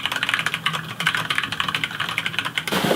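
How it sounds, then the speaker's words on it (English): Typing on a Koolertron programmable split mechanical keyboard: fast, close, irregular key clacks in quick bursts, with a heavier thump near the end. "Koolertron mechanical split keyboard."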